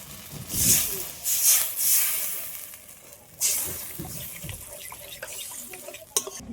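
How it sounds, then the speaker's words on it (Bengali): Water poured into a hot, oily fish curry made with sour dried mango and small fish, giving bursts of hissing, splashing sizzle that swell and fade over several seconds, close by, with no talk. "এবার আমি পরিমাণ মতন জলটা দিয়ে দেব"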